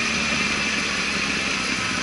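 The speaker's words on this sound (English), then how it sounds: "the motorbike start." A 2005 Honda CBR1000RR Fireblade motorcycle engine idles close by with a steady, continuous rumble and hum that holds evenly throughout, with no voices.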